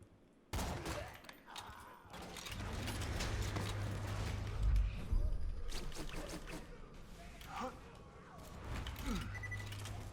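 Gunfire in the video game Borderlands 2, scattered bursts of shots and mechanical reload clatter under a low droning background, with someone talking over parts of it.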